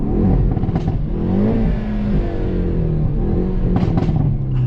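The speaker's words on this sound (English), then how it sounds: "now let's rev it up" A Hyundai Veloster N in N mode is revved hard several times, the engine swelling and dropping in loud, close bursts with raspy exhaust crackle between pulls.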